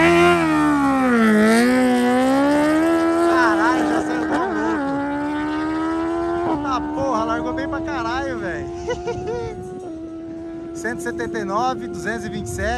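A race vehicle launches hard on a half-mile drag run with the clutch slipping, its engine note rising and shifting through gears as it pulls away; crowd noise and voices are mixed underneath.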